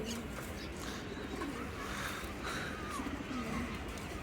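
Soft low cooing of pigeons, repeated a few times under a constant hiss of background noise, with voices talking nearby.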